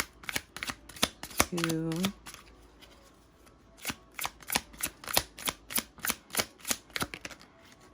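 Tarot cards are shuffled by hand in a quick riffling rhythm of sharp snapping slaps, close and clear, with a brief spoken word partway through.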